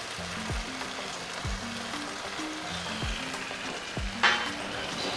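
Gizdodo ingredients with thyme, white pepper and curry powder fry in a pan, a steady sizzle broken by a few scraping stirs and one louder clatter near the end, close and fairly quiet.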